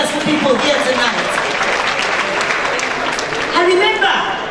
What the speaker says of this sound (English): A round of applause for the successful people here tonight.